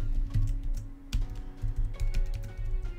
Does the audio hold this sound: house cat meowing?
no